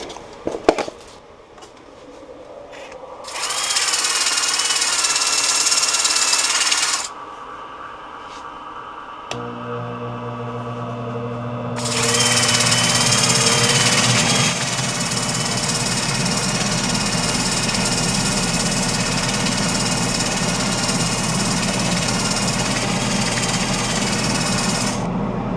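Turned wood is sanded on a running lathe using small round sanding pads padded with sock fabric, giving a loud continuous mechanical whir that swells in bursts of abrasive hiss and then settles to a steady hum, with no talking.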